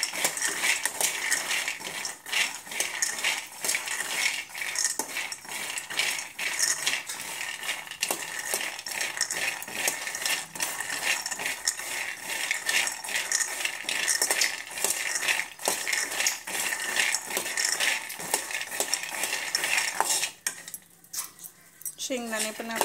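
Peanuts dry-roasting in a pan over low gas, dense rattling and clattering as the nuts are stirred and tossed against the metal, continuous and close before stopping briefly near the end.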